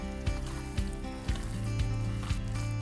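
Bare hands squish and knead ground meat for a low-carb paleo meatloaf, producing wet, sticky squelches in a loose rhythm, close up over a steady low background hum.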